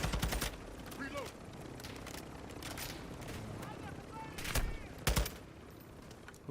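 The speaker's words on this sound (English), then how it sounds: "Who's shooting at me?" Video game gunfire in a Battlefield 2042 or Call of Duty match: sharp bursts of shots, some clustered and some spaced out, with louder cracks toward the end, heard under quieter radio-style voices.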